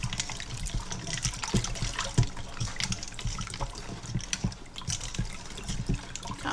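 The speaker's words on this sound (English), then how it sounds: "I'm going to give it a stir." Water being stirred in a container as brine is mixed with Lawry's seasoned salt, giving a steady splashing, sloshing swirl with small trickles throughout, close and moderately loud with no talking.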